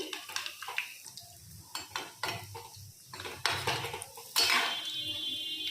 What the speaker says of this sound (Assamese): এতিয়া মই পকৰীবিলাক চব উল্টাই দিছোঁ আস্তে আস্তে কৰি